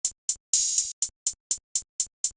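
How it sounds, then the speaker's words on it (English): A Lex closed hi-hat played at normal length: a rapid run of crisp, bright ticks with one longer open hiss partway through, close and dry with no voices. "So if the hi-hats were normal length, it would sound like this."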